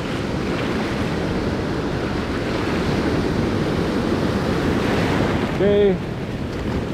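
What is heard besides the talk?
ocean waves coming in on the beach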